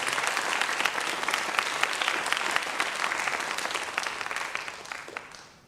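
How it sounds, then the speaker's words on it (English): An audience at a junior school graduation claps for a teacher, steady sustained applause from many hands that tapers off at the end, heard alone without talk. "give him a big round of applause"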